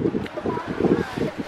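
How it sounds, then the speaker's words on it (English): Wind buffets the microphone outdoors in a steady low rumbling roar with gusty swells, fairly loud and close throughout. "It's so windy."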